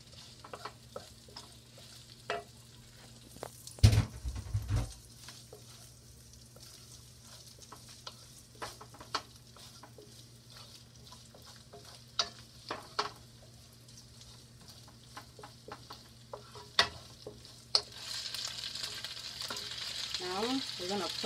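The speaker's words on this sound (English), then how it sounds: "Alright, now we're going to put our shrimp back in." Shrimp tossed back into a pan of frying broccoli, with a steady low sizzle broken by a loud clatter of the utensil early on and scattered scrapes and taps, growing hissier near the end.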